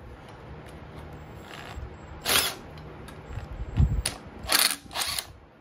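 A ratchet works a bolt loose on a White LT1650 riding mower, giving a few short, quiet bursts of metallic clicking against a faint background.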